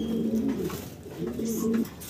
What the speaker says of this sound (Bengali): দর্শক, আমরা দেখতে পারতেছি এখানে আছে এক জোড়া অ্যান্ডালুজিয়ান কালারের প্রমিনিয়ান্ট পটার